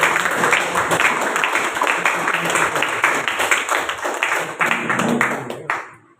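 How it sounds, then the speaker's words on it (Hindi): An audience at a motivational talk claps for itself, a loud and steady run of hand claps with individual slaps standing out, lasting several seconds and then stopping abruptly. "अपने लिए जोरदार तालियां"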